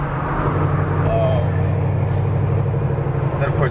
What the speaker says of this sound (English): just listen to the sounds the car makes.